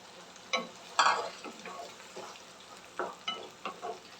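Ground tomato sautés with onions and garlic in a pan, giving a soft sizzle under scattered scrapes and taps as a spoon stirs. The sound is fairly quiet and close, with no one talking.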